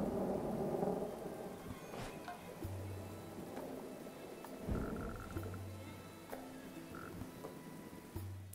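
Rain patters steadily in the game Dead in Vinland while low thunder rumbles roll in and out, faint and distant, with a few soft tonal game sounds layered over the storm.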